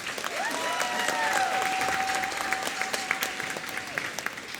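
A middle school popular music concert audience claps for the student performers, a continuous broadband patter of many hands, with a held tone ringing faintly underneath.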